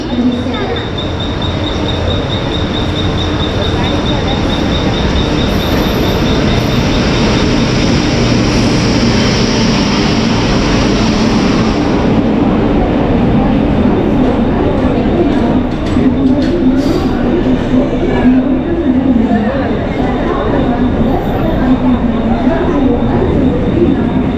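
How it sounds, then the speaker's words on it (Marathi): The Mandovi Express 10103 passenger train on the Konkan Railway rolls in with a loud, continuous rumble and rattling wheels, a high whine fading midway, people talking faintly underneath. "ट्रेन आले आपली one zero one zero three Mandvi express"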